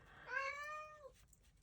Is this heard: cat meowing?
yes